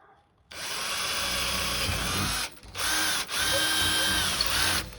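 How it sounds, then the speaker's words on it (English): A power drill with a 1/8 inch bit pre-drills a pilot hole in a door, its steady high whine running loud and close with two brief pauses. "Pre-drilling with an 1/8 inch drill bit,"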